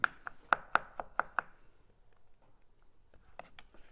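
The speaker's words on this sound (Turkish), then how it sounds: "Sarımsakları da ince ince kıyıyorum." Roasted garlic is chopped finely with a knife on a board, a quick run of about eight sharp, close taps, then a pause and a few more light cuts.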